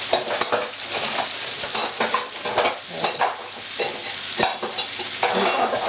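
A wooden spoon stirs butter in a non-stick pan on the stove, giving repeated scraping strokes over a continuous frying sizzle, close and moderately loud, with no one talking.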